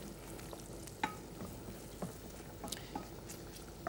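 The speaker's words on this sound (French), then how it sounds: "Alors là, les lardons commencent à chanter, comme d'habitude." Lardons sizzle steadily in a pan, a soft continuous frying hiss broken by small pops and crackles, fairly quiet and close, with no voices.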